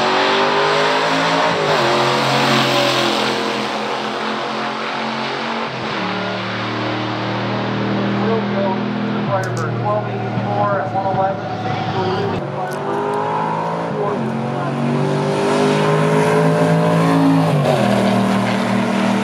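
A 1973 Pontiac Firebird SD455 and a Catalina 421 four-speed drag race on a strip, with loud roaring engines revving hard and shifting gears, continuous and close, with faint voices in the background.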